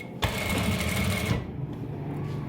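A sewing machine stitches the front and back panels of men's trousers, running in a loud, steady whir that stops abruptly partway through, leaving quiet room noise behind.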